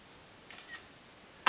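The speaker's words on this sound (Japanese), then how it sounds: "このシャッター音が響くっていうね" A camera shutter clicks twice in quick succession, faint and sharp in an otherwise quiet moment, followed by a louder noise at the end.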